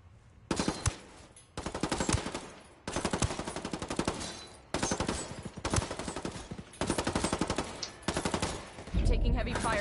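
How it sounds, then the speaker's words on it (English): Loud, rapid automatic gunfire in a shooter video game, fired in several sustained bursts with short pauses between them, with a heavy impact at the end. "Taking heavy fire here."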